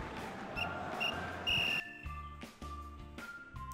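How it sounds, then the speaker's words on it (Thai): A referee's whistle in a classroom football quiz game blows in short shrill bursts signalling time up, over electronic game music and effects, fairly quiet overall. "มีเสียงนะครับลูกหวีดหมดเวลาเรียบร้อยแล้วนะครับ"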